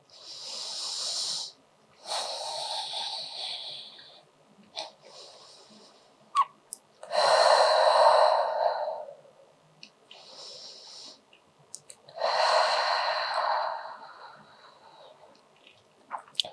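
Deep, slow breaths during a beginner yoga pose, with several long audible inhales and exhales separated by quiet pauses, close and breathy with a snoring-like rasp, no talk.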